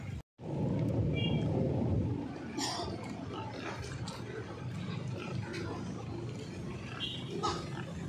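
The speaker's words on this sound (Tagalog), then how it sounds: "So yun, tatlo kong baboy" Pigs grunting and snorting on a small farm, one of three pigs kept alongside a cow, with a steady low rumble of animal noise throughout and occasional sharper squeals breaking through.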